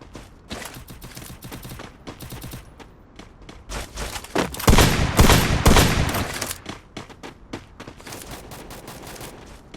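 Gunfire in the Free Fire video game, rapid bursts of shots crackling in dense volleys that build to a loud, sustained barrage midway before thinning back into scattered cracks.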